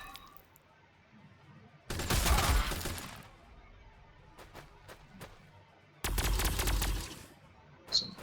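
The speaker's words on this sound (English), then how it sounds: "Some super ineffective lasgun fire there, guys." Lasgun fire in the Warhammer 40,000: Sanctus Reach strategy game comes as two dense, loud volleys of crackling shots, each lasting about a second, with scattered single shots and distant battle noise between them.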